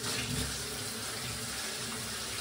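Cold water runs steadily from a newly installed shower faucet, a continuous close hiss with no pauses.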